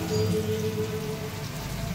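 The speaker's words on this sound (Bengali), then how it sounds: "আমি এখানে বিরিয়ানির জন্য বেরেস্তাটা করে নিচ্ছি আর তারপর আলুগুলোও ভেজে নিচ্ছিলাম" Sliced onions and potatoes frying in hot oil for biryani, a dense, steady sizzle like heavy rain, close and fairly loud throughout with no speech over it.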